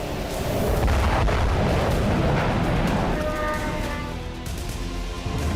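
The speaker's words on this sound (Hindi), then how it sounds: "ईरान की एक क्लस्टर वॉरहेड वाली बैलिस्टिक मिसाइल हवा में फटी और उसके छोटे बम तेल अवीव के अलग अलग इलाकों में गिरे।" A ballistic missile with a cluster warhead bursting in the air over Tel Aviv, a loud continuous roar of rumbling booms and crackling blasts that stays dense throughout and eases slightly toward the end.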